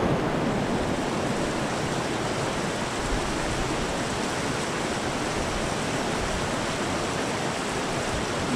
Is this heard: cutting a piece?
no